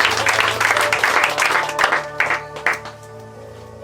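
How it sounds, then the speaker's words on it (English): A church congregation applauds, dense rapid hand claps from many people at close range that swell loudly, then taper off near the end over a steady low hum. "Let wiitu us Yesu clap for him Kristo. again."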